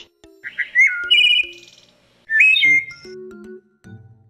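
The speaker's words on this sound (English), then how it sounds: "Thrush." A thrush sings a varied series of clear whistled phrases, rising and falling notes in short bursts with brief pauses between them, close and fairly loud with no talk.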